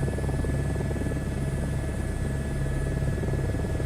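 A helicopter in a VR flight game produces a steady, loud rotor and engine drone with a constant buzzing hum and even chop, unbroken throughout.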